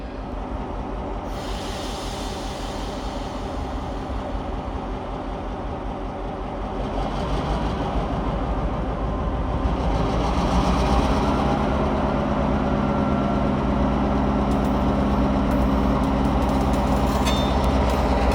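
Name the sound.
EMD high hood diesel locomotive running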